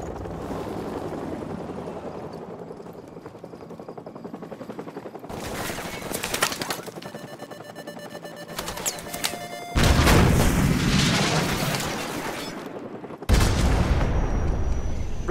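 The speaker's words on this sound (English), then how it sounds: "So, grab another Stinger and fire again." A Stinger missile launched in Call of Duty: Modern Warfare Remastered, a sudden loud whooshing blast bursting over ongoing machine-gun fire and battle noise, then a second heavy surge moments later.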